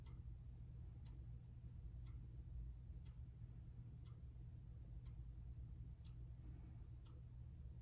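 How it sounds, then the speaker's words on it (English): Clock ticking faintly in a quiet indoor room, with soft, evenly spaced ticks about once a second over a low background hum and no speech. "I'm sure you can hear my clock ticking in the background."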